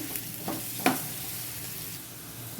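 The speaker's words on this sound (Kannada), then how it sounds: "ಈಗ ಬಿಸಿ ಆಗಿದೆ, ನಾನು ಹಾಗಲಕಾಯಿ ಫ್ರೈ ಮಾಡ್ಕೊಳ್ಳೋಣ ಅಂತ ಹಾಕ್ಕೋತೀನಿ" Bitter gourd pieces frying in hot coconut oil, with a steady close sizzle broken by a couple of short stirring scrapes and a brief bright crackle near the middle.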